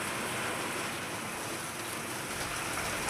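Steady, dense rain hisses loudly throughout, an unbroken wash of water falling on surfaces with no pauses or voices.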